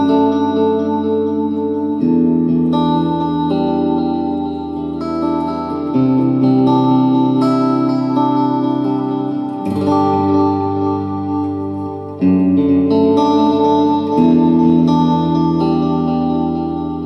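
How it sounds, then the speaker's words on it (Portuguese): Clean electric guitar played through a Mooer GE250 multi-effects unit with reverb and modulation, giving sustained, shimmering chords that change roughly every two seconds and ring out with long, lush tails, loud and alone without any talking. "Na verdade eu estou usando aqui o reverb e o modulate."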